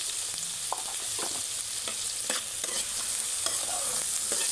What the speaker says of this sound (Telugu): బాగా ఫ్రై అయ్యే వరకు ఫ్రై చేసుకోవాలి